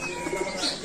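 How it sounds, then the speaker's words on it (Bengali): A pigeon coos softly in a brief, steady call, the low murmuring tone continuous against faint background hiss. "আবার এই কবুতরকে শয়তানের সাথে তুলনা করেছেন প্রিয় নবী হযরত মুহাম্মদ সাল্লাল্লাহু আলাইহি"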